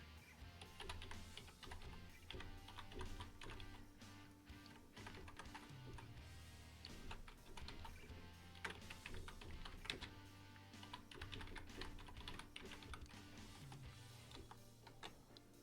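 Steady typing on a computer keyboard while code for a window is entered, with quick, soft key clicks in an even patter, close and quiet, alone throughout.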